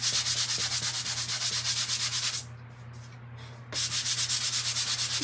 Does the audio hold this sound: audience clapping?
no